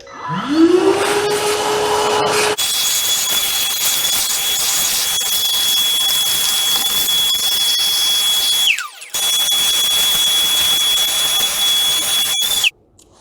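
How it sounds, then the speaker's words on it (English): A cordless 20-volt Craftsman vacuum runs in a garage with a loud, steady high-pitched whine after a brief spin-up, then cuts off briefly and restarts before switching off near the end. "I'm gonna use the cordless 20 volt Craftsman vac that I reviewed a few years back"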